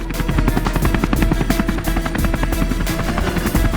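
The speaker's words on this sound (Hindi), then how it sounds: "सेना और एयरफोर्स हेलिकॉप्टर 24 घंटा नजर रखिबे" Army and air force helicopter flying overhead during high-security patrols for the G-20 summit in the capital, a loud steady rotor thump with dense rapid blade chop and engine whine throughout, no voices.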